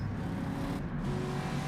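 A race car engine in rFactor, driven in an online race on the Targa Florio '67 circuit, drones steadily and close at a constant pitch, with no talk over it.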